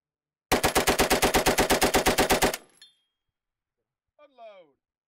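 Vickers or Bren machine gun fires one rapid burst of about fifteen loud, evenly spaced shots over two seconds, with a brief echo afterward and a short spoken word near the end.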